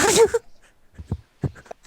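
A voice imitating an angry manatee makes a short, sharp sneeze-like snort, followed by a few soft grunting huffs, close and brief.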